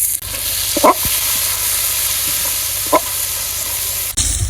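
Lentils tipped into a hot pan of oil with onion, garlic and chopped green chili give a steady sizzling hiss, with a couple of brief clinks and stirring noises over the constant frying.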